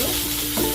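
Onions sizzle in hot oil in a pan while cooking a soya chunks gravy, a close, steady frying hiss with faint stirring.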